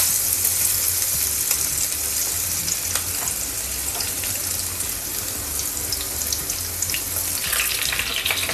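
Crushed garlic frying in hot oil for a Korean-style chicken dish, a steady close sizzle and crackle that holds at an even level throughout with no voices.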